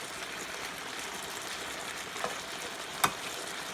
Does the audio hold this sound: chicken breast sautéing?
yes